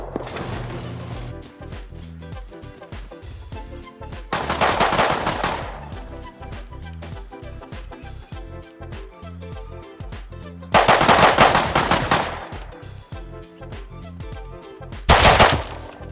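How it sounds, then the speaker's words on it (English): Bursts of automatic gunfire in the survival game Rust, three separate volleys heard at a distance, each a rapid rattle of shots lasting a second or two, with quiet game ambience between them. "I decide to go do something a little different when I hear these gunshots."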